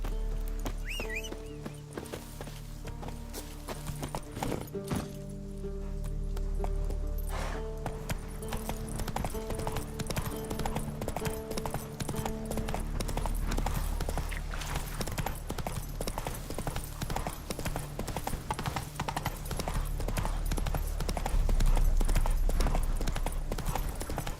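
Roach the horse trots in The Witcher 3, a steady, close, rhythmic clip-clop of hooves that continues throughout, with game sounds layered underneath.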